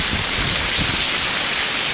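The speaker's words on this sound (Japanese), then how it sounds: "ゴミが溜まってと雨どいから水がジャバジャバ来てます" Rainwater gushing and splashing from a debris-clogged rain gutter at a garage in Ginowan, Okinawa, a loud continuous rushing wash of water close by during a heavy storm.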